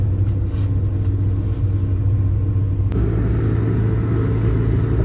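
A 2000 Honda Civic EX pulling away, a loud steady engine rumble from inside the car with a single sharp knock partway through.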